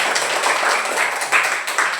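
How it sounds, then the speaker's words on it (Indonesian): A class of students applauds a student group in a mathematics lesson, a brief burst of dense, close clapping with a few sharper accents. "Mana tepuk tangannya buat kelompok mawar?"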